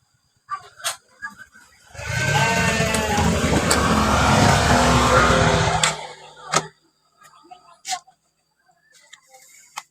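A motorcycle engine revs up loudly nearby for about four seconds and then cuts off, with sharp clicks and knocks before and after.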